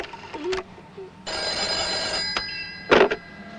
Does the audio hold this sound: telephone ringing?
yes